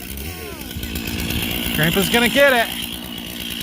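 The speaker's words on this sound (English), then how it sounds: "What are we gonna use? A chainsaw." Chainsaw cutting down a Christmas tree outdoors, a steady motor drone running under family chatter and kids' voices, briefly revving louder near the end.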